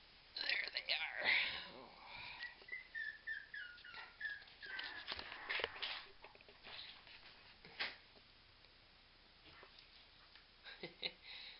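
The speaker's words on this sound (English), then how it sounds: "puppy." Puppies whimpering and yipping softly up close, high thin whines scattered through the clip while a person talks quietly and affectionately over them.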